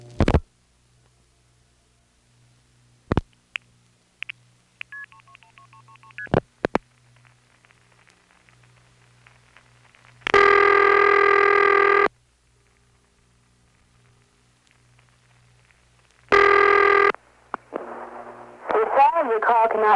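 Telephone call routed through Bronx to White Plains Tandem 4 over T-carrier trunks: sharp clicks and a short burst of dialing tones, then two long loud ringback-style tone bursts, followed by a recorded voice.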